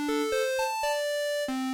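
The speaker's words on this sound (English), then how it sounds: "to a square wave, which sounds like this." Square-wave synth oscillator tone sampled from a Korg Volca Keys, playing five short sustained notes at moderate level with a buzzy, hollow timbre, a clean isolated line with no talking.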